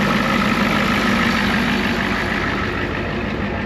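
A turbocharged Ford F350 crew-cab bullnose dually truck engine idles, a loud, steady, close-up rumble with no variation across the few seconds.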